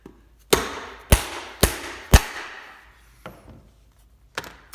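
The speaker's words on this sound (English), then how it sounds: "I'm using a dead blow hammer for this" Four sharp, heavy knocks in a steady rhythm, a dead blow hammer knocking a bearing out of a Santa Cruz bicycle up close, then a couple of lighter taps and clinks.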